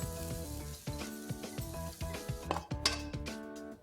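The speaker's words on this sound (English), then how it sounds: "Now I'm going to remove them from the wok into my bowl." Stir-fried prawns with spring onions and sprouts scraped from a wok into a bowl, with sizzling, repeated metal scrapes and clinks of utensil against pan, close and fairly loud, with tonal ringing over the frying hiss.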